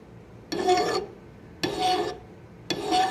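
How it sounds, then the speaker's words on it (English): A hand file rasps across metal in three slow, even strokes with pauses between, close and fairly loud, while a mash tun is being built. "And filing, filing."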